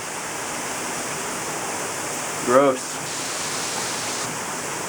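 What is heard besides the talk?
heavy rain pouring outside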